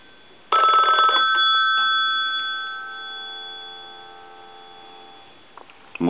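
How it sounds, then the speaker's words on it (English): A Western Electric rotary telephone bell rings loud and close in one long burst, then its shimmering metallic tone decays slowly over several seconds on a repair bench. "we'll go ahead and ring this telephone"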